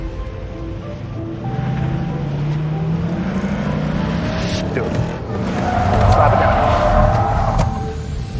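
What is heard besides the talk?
car flipped around in a quick two-point turn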